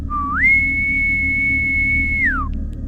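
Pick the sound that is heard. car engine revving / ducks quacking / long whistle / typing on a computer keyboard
long whistle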